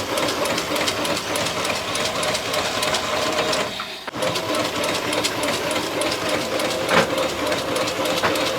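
Two incense stick (dhuno kathi) making machines run together, a steady mechanical whirr and rapid clatter that holds loud and close throughout, with one brief dip midway.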